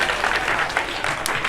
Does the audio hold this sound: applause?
yes